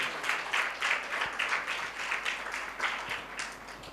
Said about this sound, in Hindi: तालियों से स्वागत भी होना चाहिए